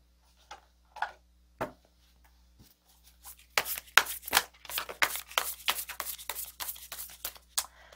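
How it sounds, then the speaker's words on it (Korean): Tarot cards being shuffled and drawn, a few soft taps at first, then a dense run of quick crisp flicking riffles, close and fairly loud, with no talk. "카드를 좀 뽑아보도록 할게요"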